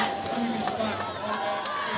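Dense, raucous crowd noise from the stands at a college homecoming football game, a steady roar of cheering and babble with no break, voices blending together throughout.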